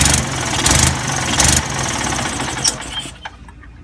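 A golf cart engine runs steadily right after a carburetor change, a loud, rough idle close by that chugs and surges before tapering off near the end.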